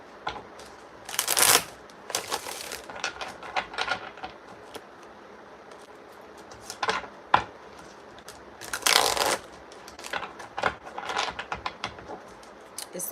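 A deck of tarot-style reading cards is shuffled by hand in bursts of riffling and sliding, with two louder riffles and scattered softer shuffles between them, close up and with no talk.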